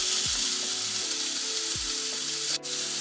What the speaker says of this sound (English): the salmon is finished searing